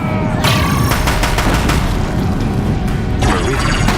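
Deathbringer machines fire in the video game Horizon Zero Dawn, producing a dense, loud barrage of booming shots and rattling gunfire that runs without a break for the whole stretch.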